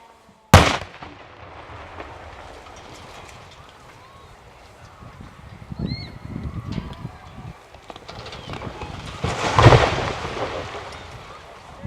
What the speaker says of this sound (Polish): 40-metrowy komin dawnej kotłowni Kutnowskiego Szpitala został przewrócony przy pomocy materiałów wybuchowych przyczepionych u nasady komina.